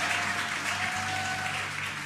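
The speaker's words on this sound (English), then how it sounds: "You can hear the crowd here." Crowd cheering and clapping as the Dragon Freedom spacecraft descends under drogue parachutes on its return to Earth, a steady distant roar of applause with a faint tone running beneath it.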